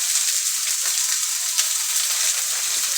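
Red and white onions fry in grapeseed oil in a pan, giving a steady, loud, close sizzle with a few faint pops and no talking.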